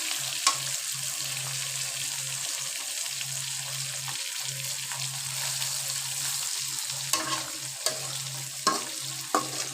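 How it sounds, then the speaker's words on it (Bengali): Tilapia fish and onions frying in oil on two burners, a steady close sizzle with occasional stirring scrapes and crackles, and a low hum underneath. "আমি মাছটা ভেজে নিচ্ছি। আর আরেকটা চুলায় আমি দেখো পেঁয়াজটা ভেজে নিচ্ছি।"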